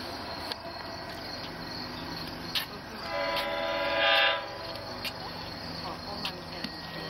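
An LIRR passenger train pulling six C3 bilevel cars passes at Westhampton with a loud, rising rumble and a brief horn blast, while crickets chirp steadily the whole time.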